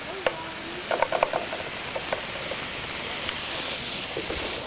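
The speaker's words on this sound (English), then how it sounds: "We're going to throw that in. And we're just toasting this up just for a second." Small pieces of prosciutto di Parma toast in a hot pan with a steady, close sizzling hiss, broken by scattered clicks and scrapes of stirring, with a brief cluster of taps near the start.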